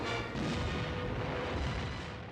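A pyrotechnic explosion staged for a film about the 1939 German invasion of Poland rolls out as a dense, sustained rumbling boom at moderate level with no talk.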